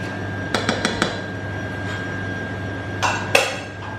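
Several quick metallic clinks of a utensil against a bowl while butter dough is stirred, a run of four light taps followed after a pause by two louder scrapes and knocks.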